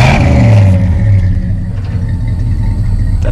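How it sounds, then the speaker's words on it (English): A 1984 Ford F150 pickup engine idles with a deep, choppy exhaust rumble, briefly revving up before settling back, close and loud. "Exhaust sounds good too."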